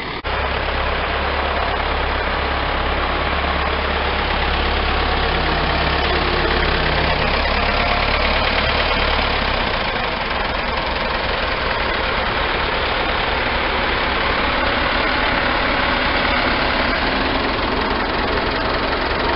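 Heavy engine of a New Holland 6810 tractor, 98 hp four-cylinder, idling close by in a pumpkin field, a steady low chugging rumble that continues throughout without talk.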